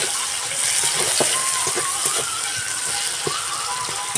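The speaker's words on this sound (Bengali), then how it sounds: "এর মধ্যে আমি পেঁয়াজ কুচি দিয়ে দিলাম। দিয়ে পেঁয়াজটাকে আমি লাল লাল করে একটু ভেজে নেব।" Chopped onion sizzles in hot oil in a pan while a Bengali fish dish is cooked, a steady broadband crackle with scattered pops and clicks under a faint voice in the background.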